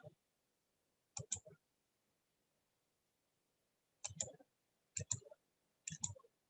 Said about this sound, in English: If I click here to refresh